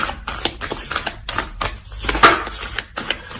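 Oracle cards are shuffled and drawn during a tarot reading, a close, crisp run of rapid clicks and riffling flicks with no voice.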